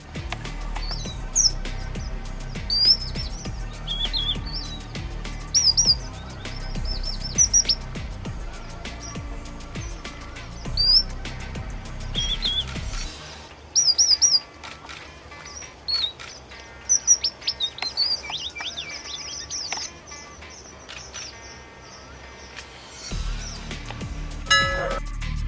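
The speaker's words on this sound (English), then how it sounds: "Red munia is a strikingly pretty small finch with a red beak found in the Indian subcontinent" Red munia, a small red-beaked finch of the Indian subcontinent, gives repeated thin, high chirps and short tweets in scattered bursts, fairly close and clear over a faint low rumble.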